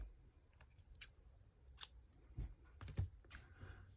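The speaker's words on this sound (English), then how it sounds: "So now I'm just going to cut my yarn." Scissors cut through crochet yarn with a few crisp, close snips spread over a few seconds, separated by quiet pauses, with no talking.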